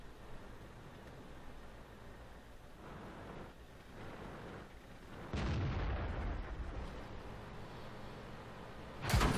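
A T69 tank cannon fires in World of Tanks, first as quiet distant thumps, then as a loud close blast at about five seconds with a long rumbling tail, and as a second sharp boom at the very end.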